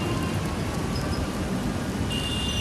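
A steady, dense wash of heavy rain in Mumbai's King's Circle fills the whole moment, loud and continuous with no voices.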